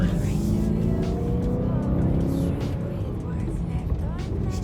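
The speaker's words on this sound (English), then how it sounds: "Oh, that exhaust noise is just fantastic." BMW M3 exhaust rumbling low and steady while the engine warms up before driving off, a continuous deep drone with some speech over it.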